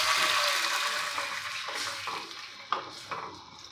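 A cup of water poured into a pan of sautéed ingredients while cooking a crunchy snack, giving a steady hiss and sizzle that fades over a few seconds, with a couple of light clinks of utensil on pan near the end.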